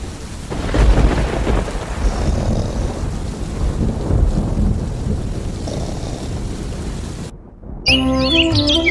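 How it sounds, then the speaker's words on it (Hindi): Heavy rain pours steadily outside while thunder rumbles deep and loud, before it cuts abruptly to music near the end. "बाहर बारिश अब भी हो रही थी"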